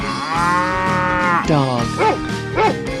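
A cow moos in a 3D animal sliding video game: one long, drawn-out low moo followed by two shorter rising-and-falling calls, loud and close over a faint game backdrop.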